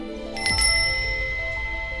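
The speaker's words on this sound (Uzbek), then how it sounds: "agar qo'ng'iroq ovozini eshitsang, qo'lingni ko'tar." A bright bell rings twice in quick succession during a game show, leaving a long, clear metallic tone that slowly fades.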